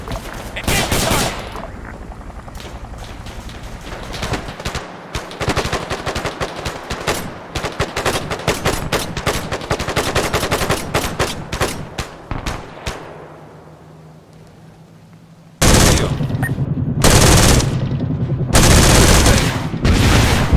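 Sustained machine gun fire rattles in rapid bursts during an Arma 3 infantry skirmish, loud and dense, thinning out before heavy, close shots resume after a short lull.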